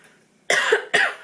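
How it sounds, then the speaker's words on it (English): Two sharp coughs close to the mic, one right after the other, with quiet before them. "I don't know why I'm coughing so much this morning."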